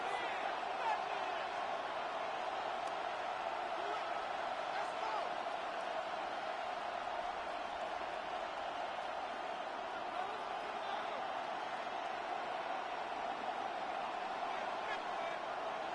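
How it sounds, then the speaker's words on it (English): Steady stadium crowd roar from a Madden football video game during a tense third-down play late in the second half, a continuous broad wash of noise with no distinct peaks, moderately loud throughout. "This crowd into it now as we get to 3rd down."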